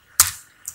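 Pressing a keyboard shortcut in Excel on a computer keyboard: one sharp, close keystroke click followed a moment later by a softer second click, with no talking.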